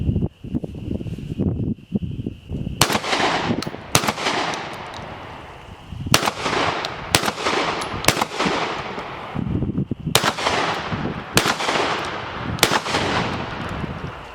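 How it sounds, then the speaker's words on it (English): Mossberg 940 Pro Tactical SPX semi-auto shotgun firing field loads, buckshot and slugs outdoors, about nine sharp, loud booms spaced a second or two apart, each with a ringing tail, with a steady hiss in the gaps. "We're going to shoot 2 rounds of field loads, and then we're going to shoot 3 rounds of buckshot, 3 rounds of slugs."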